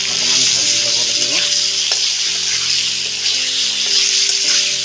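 Potato pieces sizzle and crackle steadily in hot oil, fried loud and close while being stirred around the pan for a fish curry, with no voices.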